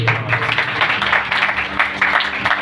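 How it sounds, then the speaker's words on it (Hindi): A church congregation at a Sunday service claps loudly together, a dense, sustained wave of applause filling the room from start to end. "आइए पाकुर के लिए जोरदार ताली।"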